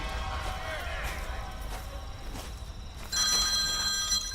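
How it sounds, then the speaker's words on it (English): A telephone rings in the video game Tomb Raider (2013), its bright electronic tone cutting in loudly near the end after muffled game ambience and faint voices. "Phone call."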